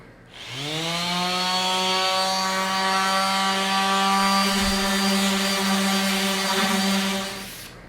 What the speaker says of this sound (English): I'm gonna go ahead and sand down our dinette tabletop and get this looking smooth